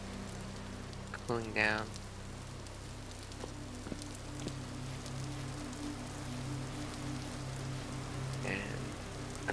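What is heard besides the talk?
rain falling in the video game Vintage Story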